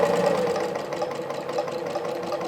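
A sewing machine with a walking foot stitches a seam along faux leather patchwork binding, a quick, even mechanical whirr with steady rhythmic ticking that runs for a couple of seconds.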